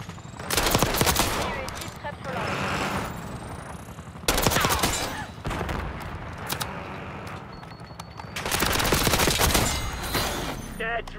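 Heavy gunfire in the military shooter Call of Duty: Black Ops 6, with dense fusillades and machine-gun bursts arriving in three loud waves amid combat noise and background game dialogue.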